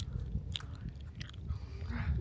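Someone chewing a gummy snack outdoors on a hillside hike, with soft, moist smacking and biting sounds repeated irregularly, close to the mouth, over light wind noise.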